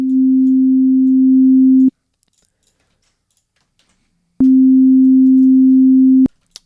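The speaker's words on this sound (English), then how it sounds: "We're going to do a sine wave in Serum" Pure sine wave tone from a Serum synthesizer, a steady low hum held for about two seconds, then silence, then the same tone returning for another two seconds, clean and loud with abrupt starts and stops.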